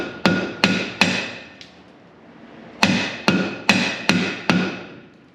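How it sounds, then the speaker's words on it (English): Sharp metallic hammer blows strike the rear brake drums of a 1966 Ford Mustang, three close hits, a short pause with one faint tap, then five more evenly spaced ringing strikes, loud and near with no talking. "They don't bolt on, so we just got to get these broke off."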